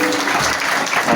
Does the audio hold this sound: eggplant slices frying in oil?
no